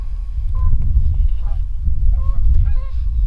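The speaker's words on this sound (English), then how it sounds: "I'd like to document the different sounds of Canadian geese." Canada geese honk in scattered short calls at a distance over a loud, rumbling wind-like background noise.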